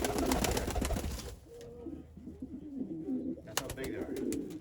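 Super giant king pigeons coo in low, rolling calls at close range, with some clattering noise at the start and end.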